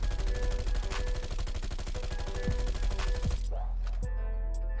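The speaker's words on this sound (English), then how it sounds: "It's actually kind of hard to control recoil, shooting all 50 bullets" Bizon submachine gun firing in Call of Duty Black Ops Cold War, a long rapid-fire burst of dense, evenly spaced shots that cuts off near the end, followed by brief game effects.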